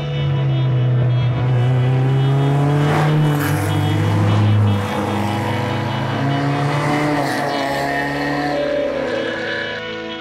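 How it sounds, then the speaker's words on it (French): Renault car engine revving loudly as it accelerates on the road, a strong, close, sustained roar whose pitch climbs and drops through the gear changes, with no talk over it. "vous pouvez accélérer un petit peu, on va la faire chanter un peu"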